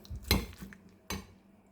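Spoon or fork clinks against a bowl while leftover fried fish is mixed with egg and flour, two distinct scraping, clattering strokes close up in a quiet kitchen.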